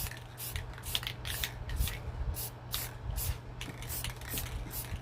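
Rust-Oleum mirror finish metallic silver spray paint hissing from an aerosol can in quick repeated bursts, close and fairly loud, applied to rustic kitchen decor over a steady low hum.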